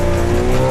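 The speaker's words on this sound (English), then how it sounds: "First skid." A car's tyres skid briefly during work on a roll cage, a loud sustained squeal over engine noise lasting under a second, close and alone.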